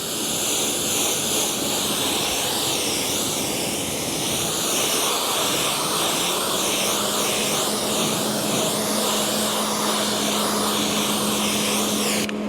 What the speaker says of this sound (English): Apologies about the fan.